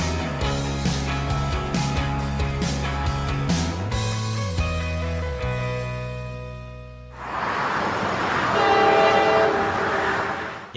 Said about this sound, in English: A camouflaged locomotive and a whole bunch of armored vehicles.